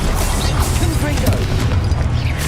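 A Confringo spell blast in Hogwarts Legacy fills the moment with a dense, loud, continuous explosive roar and crackle that stays at full intensity throughout.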